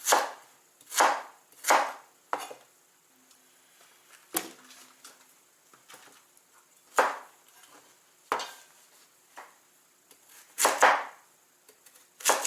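A knife chops broccoli and tomatoes into large chunks on a cutting board in sharp, irregular thuds, some single and some doubled, with quiet pauses between cuts.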